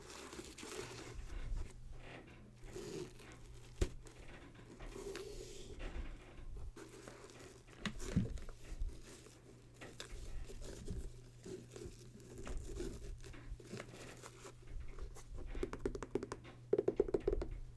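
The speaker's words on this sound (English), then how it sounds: "these laces make more noise than other laces" Soft crinkly rustling and light tapping from sneaker laces being handled close up, steady and fairly quiet with a few sharper clicks.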